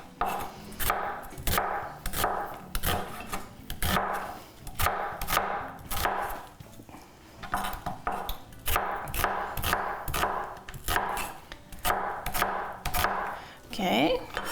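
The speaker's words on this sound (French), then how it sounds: "Donc, les oignons, ça, je ne veux pas les hacher. Les hacher, c'est comme ça." Onions are cut into large pieces with a knife on a cutting board, a close, rapid run of crisp rhythmic chops with a few short pauses between bursts.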